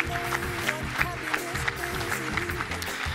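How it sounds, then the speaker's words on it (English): Audience applause for arts academy award nominees, a short burst of clapping under sustained music or tonal sound, fairly even and moderately loud. "Please give them a round of applause."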